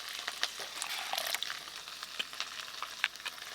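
Onions fry in a pan with a steady, faint hiss and sizzle, broken by scattered small pops and crackles. No voices are heard.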